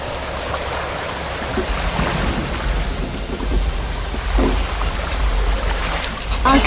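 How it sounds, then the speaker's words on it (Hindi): Thunder rumbles and cracks through a heavy village rainstorm, low booms rolling under steady loud rain on surfaces, with several distinct swells across the span. "सिर्फ बिजली कड़कने की आवाजें आ रही हैं।"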